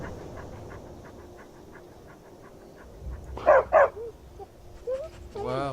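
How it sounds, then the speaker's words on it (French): A dog in the Skyrim video game gives two sharp, close barks, followed by a faint yip and a voice at the end. "Il est trop mignon ce chien."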